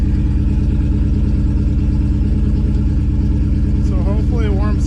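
A nitrous-injected New Edge Mustang engine idles steadily at about 1,000 RPM, a loud, even low rumble with regular firing pulses, and a person talks over it near the end.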